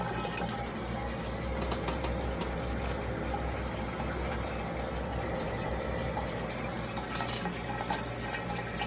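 Water drains away at the very end of a draining cycle as the level runs low, a continuous gurgling, trickling wash with faint drips, steady and fairly quiet, with no voices.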